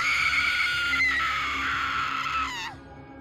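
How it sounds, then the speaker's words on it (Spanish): A maid's piercing, sustained scream rings out loud and alone for nearly three seconds, holding a high, strained pitch before cutting off sharply. "lo que encontró la hizo soltar un grito desgarrador"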